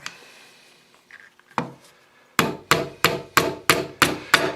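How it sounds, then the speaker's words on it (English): A few scattered light taps, then seven sharp metallic hammer blows driving pins into a DeWalt stapler at a steady rhythm, close and loud, each ringing briefly before the next strike. "we're going to drive these pins back in"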